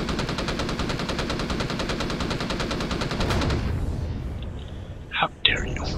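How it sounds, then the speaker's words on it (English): Rapid automatic gunfire from enemies shooting at the player in the space survival game Empyrion rattles in a fast, steady stream for several seconds, then cuts off, followed by a couple of sharp impact bursts. "You're actually shooting at me."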